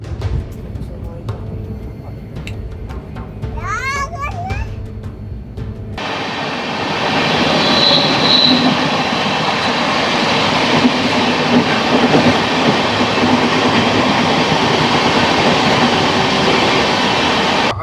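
Inside the Pratap Express 12496, a passenger train running from Kolkata to Agra. A brief voice is heard over a quieter rumble, then the carriage swells into a loud, steady roar and rattle of the moving train.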